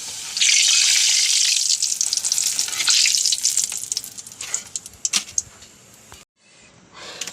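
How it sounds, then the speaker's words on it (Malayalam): A loud burst of sizzling as a papadum drops into hot oil, fading into lighter crackles before a brief pause and a quieter return. "പപ്പടം വറക്കട്ടെ."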